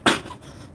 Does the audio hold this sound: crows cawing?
no